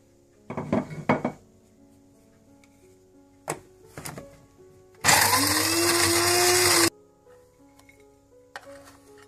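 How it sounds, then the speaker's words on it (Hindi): A kitchen grinder roars for about two seconds as it grinds almonds and walnuts for baklava, loud and steady, with clinks and clatters of jars and utensils before and after. "इसके बाद मैं बादाम और अखरोट को भी थोड़ा थोड़ा ग्राइंड कर लूंगी"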